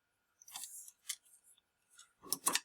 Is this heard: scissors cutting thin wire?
yes